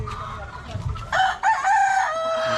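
Chickens fed Integra 2 Plus feed cluck and murmur at close range, then a rooster crows loudly in a long drawn-out call that dominates the second half, with another bird chiming in over the steady flock noise.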